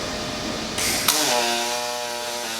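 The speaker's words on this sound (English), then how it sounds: "I got the pulse turned on. You hear the sound change" Pulsed MIG welding on an aluminium-hulled jet boat, a steady buzzing arc with a sharp crackling burst and a shift into a humming, tonal pulse, close and fairly loud with no talk.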